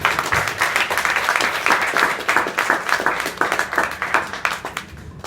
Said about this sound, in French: Mesdames et messieurs, sur vos applaudissements.